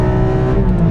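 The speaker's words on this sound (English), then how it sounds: "let's rev match" A Porsche 718 GT4 engine blips sharply during a rev-match downshift, a brief loud rise in revs heard up close with no talking.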